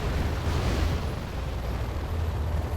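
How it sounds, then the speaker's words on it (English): A nuke strike detonating in a China versus Tank match of a strategy game, a sustained low rumbling roar that stays steady and fairly quiet, like a distant blast rolling on. "That nuke's going to fire."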